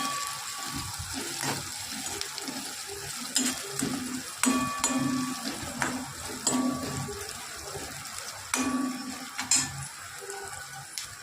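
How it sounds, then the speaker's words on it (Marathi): Onion frying in a pan while making uppitu, a steady sizzle with intermittent stirring scrapes and clinks of a spatula against the pan, close by and without speech. "कांदा टाकणार आहोत, लालसर असं फ्राय करून घेऊयात"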